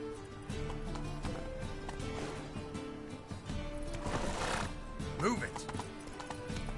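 A horse gallops with steady clip-clop hoofbeats in The Witcher 3, accompanied by game music and a brief whinny, while a voice speaks briefly over it.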